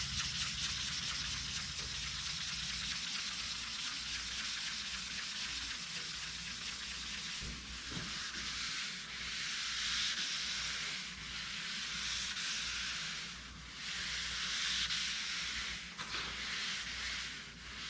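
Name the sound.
buffing clear coat on a Z28 hood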